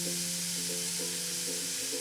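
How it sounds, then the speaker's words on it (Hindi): Mustard seeds, cumin and chopped green chillies hit hot oil, giving a close, steady, bright sizzling hiss that runs unbroken for two seconds without any talking. "तेल गरम होने के बाद 1 चम्मच सरसों डालेंगे, 1 चम्मच जीरा डालेंगे, दो हरी मिर्च डालेंगे काट के"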